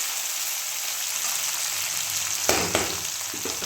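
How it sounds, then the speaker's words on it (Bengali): Sliced potatoes sizzling and frying in a pan with onion and green chili, a steady close hiss throughout with a couple of brief clatters of stirring near the end. "ভেজে নিই আলু ভাজাটা"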